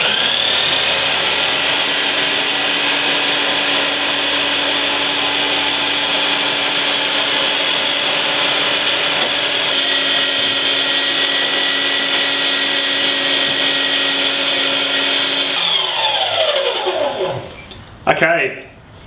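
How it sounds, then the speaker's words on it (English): An electric meat mincer runs at its slowest speed grinding venison for sausages, a steady loud motor whine and hum that holds evenly before shifting and cutting out near the end. "So I got two settings on the mincer. I'm going to put it on the first, so the slowest speed."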